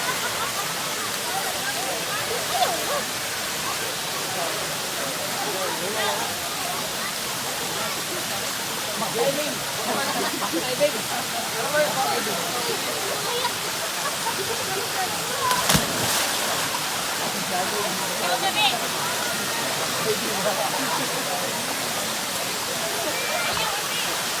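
Terraced waterfalls in Argao, Cebu pour in a dense, continuous roar of rushing water, loud and close, with a steady wash of splashing and no pauses.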